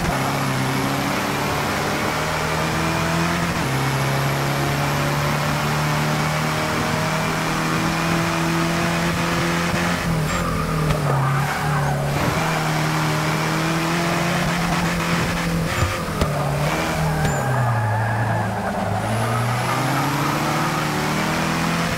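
Herbie's engine racing in Forza Motorsport 6, a steady loud drone with rising and falling pitch as the car holds speed and shifts, dipping briefly near the end.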